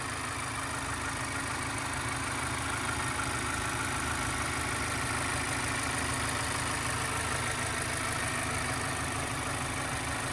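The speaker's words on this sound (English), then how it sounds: "nice and smooth running engine, no odd noises or vibrations" A 2016 Mazda 3 with its 2.0-liter Skyactiv engine idles steadily with the hood open, a smooth, even hum that holds constant for the whole stretch with no talking over it.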